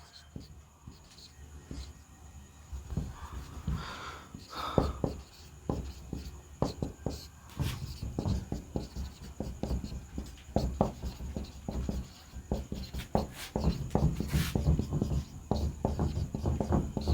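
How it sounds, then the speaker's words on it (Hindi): Marker or chalk writing an example on a classroom board during a Hindi-medium English grammar lesson, heard as repeated short scratchy strokes in bursts over a quiet room, close to the microphone. "मैं आपके बोर्ड पे एग्जांपल लिख दे रहा हूं"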